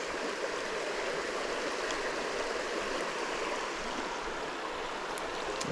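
Fast-moving water of an Indiana creek rushing steadily, a continuous broad wash with no talk over it.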